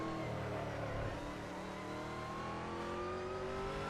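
A Toyota Supra GT500 race car in a racing sim runs hard down a straightaway, its engine a loud, steady high-revving drone with rising harmonic pitch throughout, no voices over it.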